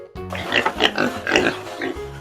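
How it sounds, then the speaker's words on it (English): A pig grunts and oinks up close, a rapid series of five or six snorting grunts in an uneven rhythm, loud and alone. "pig,"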